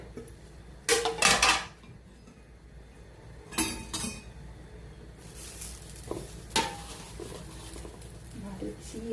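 Jackfruit Manchurian being mixed in a pan, with several bursts of scraping, stirring and clinking of a utensil against the pan over a low background sizzle, separated by quieter stretches.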